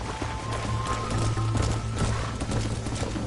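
Horse hooves trot steadily in Red Dead Redemption, a dense, continuous clip-clop under a low steady drone, fairly loud and close throughout.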